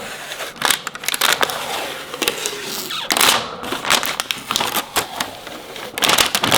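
Vinyl wrap being peeled off a BMW E46, heard up close as a series of crackling, ripping tears and sticky snaps in uneven bursts, with short pauses between pulls.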